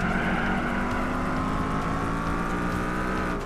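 Shelby Cobra race cars in Gran Turismo 4 roar together off the starting line, a loud continuous pack of revving engines climbing in pitch as they accelerate, with no talk over it.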